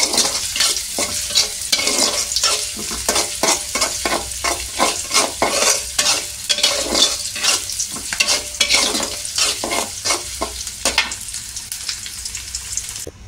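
Dal being tempered and cooked in a pot on a gas stove, with rhythmic stirring strokes scraping through a continuous loud sizzle that runs steadily until near the end.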